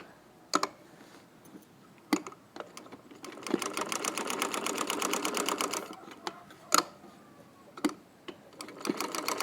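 A sewing machine runs steadily for about two and a half seconds while stitching the neckline of a yoke, framed by sharp clicks and handling knocks before and after, close and fairly loud.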